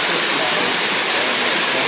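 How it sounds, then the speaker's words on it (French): A waterfall on Cyprus roars as a steady, dense rush of falling water, close and continuous with no breaks, filling the whole moment without any voices. "je pense que la cascade elle est là-bas"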